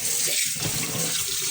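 Running tap water pouring steadily over fish while it is washed in a sink to remove salt, a continuous close hiss with no talking.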